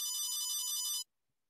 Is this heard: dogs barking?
no